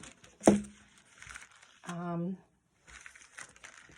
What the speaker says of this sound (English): I'm taking the wrapping off and just gonna cut this down